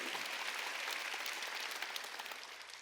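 A church congregation at a Wednesday worship service claps together in a dense, steady burst of applause that fills the room for a few seconds, with no voices on top.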